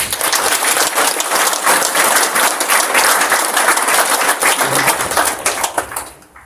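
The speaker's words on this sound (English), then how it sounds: "we should first all clap for our leaders" An audience claps for its leaders at a community gathering, a full, crackling burst of many hands that carries loudly for several seconds and then thins out and fades near the end.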